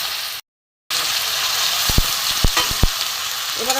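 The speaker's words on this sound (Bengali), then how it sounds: "এবার আমি কষে নেব" Boiled banana flower is stir-fried with fried potatoes and chickpeas in a pan, giving a steady close sizzle broken by a brief silent gap and several sharp spatula scrapes and clacks.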